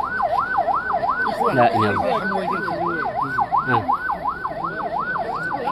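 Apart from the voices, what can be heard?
ambulance siren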